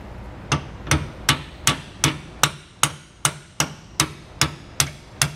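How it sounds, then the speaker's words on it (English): Hammer tapping a step bolt through a suspension bracket on a 2020 Grand Design Momentum fifth-wheel trailer, fourteen sharp metallic strikes at a steady, unhurried rhythm, close and loud with no voices. "we're just going to take a hammer and we're just going to tap it the rest of the way"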